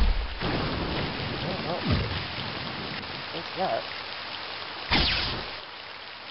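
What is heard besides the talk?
storm arrow thunderstorm spell in video game Heretic II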